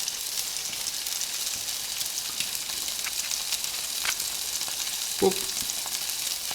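Onion and carrot fry in a pan with a steady broadband sizzle throughout, close and even, with a short clatter near the end and a brief spoken word.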